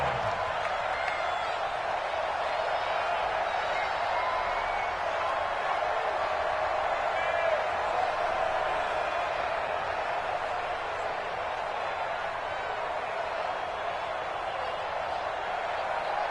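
Stadium crowd noise from a PS4 football video game, a steady, fairly faint wash of cheering and murmur that holds for the whole stretch with no distinct claps or peaks.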